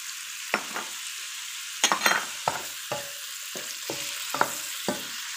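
Fresh shrimp drop into a hot pan for a stir fry with tofu, giving a steady bright sizzle broken by repeated scraping stirs and clinks of the spatula, close and without talk.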